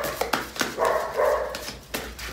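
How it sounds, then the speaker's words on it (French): A dog barks repeatedly at close range, a series of sharp, loud barks in an uneven rhythm, with no talking over them. "Pourquoi est-ce qu'elle aboie?"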